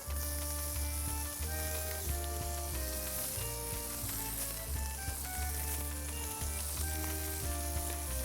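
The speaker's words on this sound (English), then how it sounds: "I want to hear a nice little sizzle when I put them on there" Chappa bread sizzles steadily on a hot Chappa grill beside cooking provolone, a continuous crackling fry close up with faint clinks, no voices.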